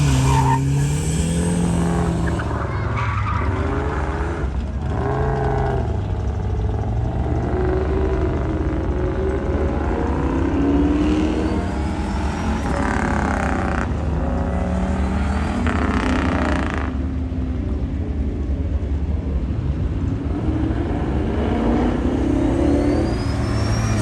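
A turbo V8 police car makes an autocross run with repeated tire squeals and skids over a loud, close engine that revs and drops as it works through the course.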